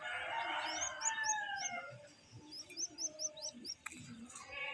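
Zebra doves (perkutut), locally kept adults and young, give repeated short rhythmic cooing notes in a bird-filled setting, with other birds chirping and tweeting around them, moderately close.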